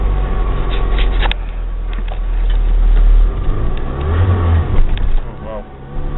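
A Ford Ranger's engine revving as a newly fitted clutch is tested, a loud mid-pitched engine note that rises and falls, with a voice talking over it.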